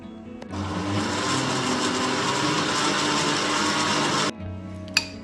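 Kitchen blender beating mango pulp with milk for mango lassi: a loud, steady whirring motor runs for about four seconds, then cuts off abruptly, followed by a short click.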